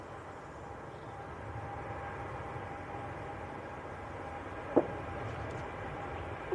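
A TUI airliner on flight 128 departs Manchester Airport bound for Bridgetown, giving a steady, distant broadband roar with no speech over it and a brief sharp click partway through.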